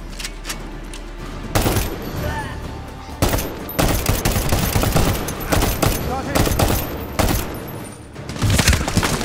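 Automatic gunfire in the video game Medal of Honor: Warfighter, with loud, close bursts of rapid shots cracking in repeated volleys and short gaps between them, and faint speech under the firing.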